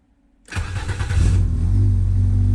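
A car engine cranks and catches after being put back together, a sudden loud start that settles into a steady, close, low-pitched idle with no voices.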